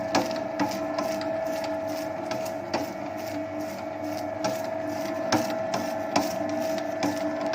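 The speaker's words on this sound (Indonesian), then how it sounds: "Kita mixer selama kurang lebih 10 menit, jadi total 15 menit" A stand dough mixer at speed 2 kneads bread dough for sobek, krumpul and kasur rolls, giving a steady motor hum with a sustained tone and periodic soft knocks and thumps throughout.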